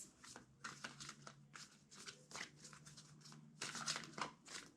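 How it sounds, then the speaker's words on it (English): Crisp bursts of riffling and rustling as tarot-style playing cards are shuffled repeatedly, close up, with a faint steady hum underneath. "Two more shuffles."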